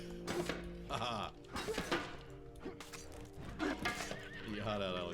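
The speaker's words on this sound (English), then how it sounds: "There is a horse on this island." Repeated horse whinnies and clattering hoofbeats from the video game Apotheon, fairly loud in the game mix, with people talking and laughing over the sounds.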